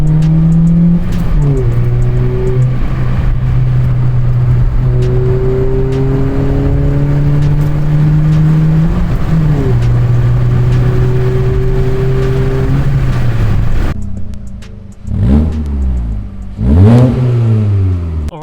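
A VW Polo 1.4 FSI fitted with a backbox-delete sports exhaust revs repeatedly, its deep tone climbing and falling through several held rises, then a few sharp blips near the end, loud and close with no talking.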